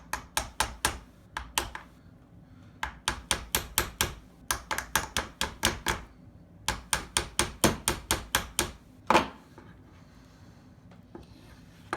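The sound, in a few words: hammer tapping on airsoft pistol parts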